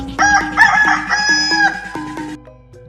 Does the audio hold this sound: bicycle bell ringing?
no